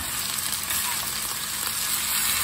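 Potatoes for corned beef hash browning in a pan give off a dense, steady sizzle that holds at an even level throughout, close up and with no voices over it.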